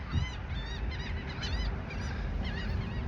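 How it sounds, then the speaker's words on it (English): Many seagulls call at a beach in a dense, overlapping chorus of squawks over steady wind and surf rumble, continuing throughout with no talk. "Look at all those seagulls. They be swarming out here, bro."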